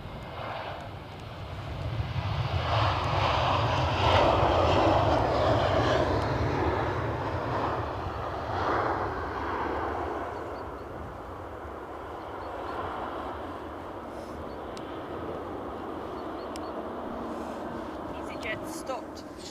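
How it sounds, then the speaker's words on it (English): A Lufthansa airliner inbound from Frankfurt lands at Edinburgh Airport, its engines roaring at a distance, swelling and then easing into a lower rumble, with people talking over it. "So here's our Lufthansa inbound from Frankfurt"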